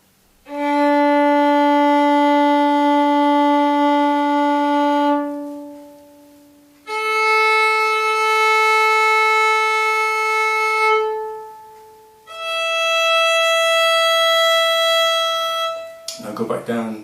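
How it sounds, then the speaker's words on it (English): Slow violin bow strokes drawn from bottom to top, producing long sustained bowed tones in three held notes with brief gaps, close and clear with no talk over them. "draw the bow from the bottom to the top,"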